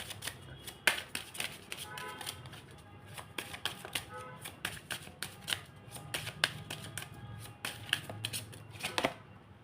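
Tarot cards shuffled by hand in a quiet room, a rapid run of crisp riffling flutters and taps repeating in uneven bursts, close and fairly soft.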